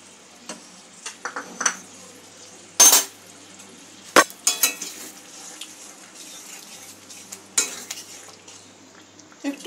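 A spoon scrapes and clinks against a pan as chicken gravy thickened with cornflour is stirred over a low simmer, in irregular close strokes with a few louder knocks.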